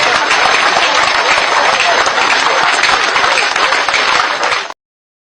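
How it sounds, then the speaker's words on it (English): A large audience applauding and clapping loudly and continuously, a dense roar of hands that cuts off abruptly near the end. "You go clap for me."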